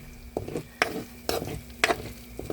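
Corned beef sautéing with finely chopped onion in a pan over a wood fire, with stirring scrapes and soft sizzling in bursts, close and moderate, no talk.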